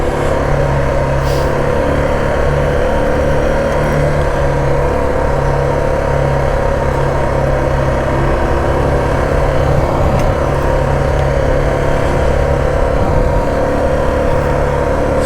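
A Suzuki DR650SE motorcycle engine labours steadily up a forest trail hill over pea gravel and sand, a constant droning hum with wind rush, close and loud throughout without pause.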